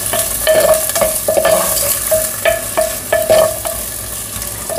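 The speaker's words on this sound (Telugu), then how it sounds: "వేసిన వెంటనే ఉల్లిపాయ, పచ్చిమిరపకాయ, కరివేపాకు." Onion, green chili and curry leaves fry in hot oil, a steady close sizzle broken by repeated short scraping strokes of a spatula stirring the pan, with no voices.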